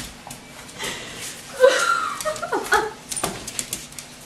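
A puppy being teased makes whimpers and small yips, soft at first, then a cluster of higher whines and yelps up close, with faint human voices or chuckles in the background.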